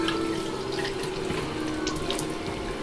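Running tap water pours steadily and close by while a Maine Coon cat is rinsed during a bath, a constant splashing stream with no talk.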